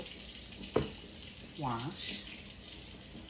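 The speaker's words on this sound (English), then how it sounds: "So now we're gonna wash our hands." Hands being washed under a running kitchen tap, with a steady close rush of water, a brief splash, and a short vocal sound partway through.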